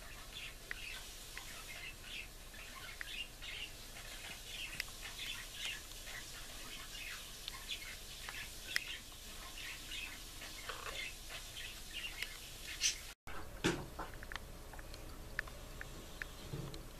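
Pet budgies, quiet girls, give faint, scattered little chirps and soft chatter close by in a calm room.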